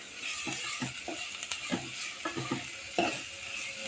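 Masala sautéing and being stirred in a pan while cooking dal filling for puran poli, a steady close sizzle broken by repeated scraping strokes of a spoon.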